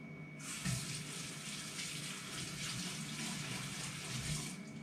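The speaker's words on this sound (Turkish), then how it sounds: "Tamam, ellerimi yıkayayım ve" Tap water runs steadily into a sink as hands are washed, a continuous close splashing hiss that starts abruptly and holds level throughout with no voices.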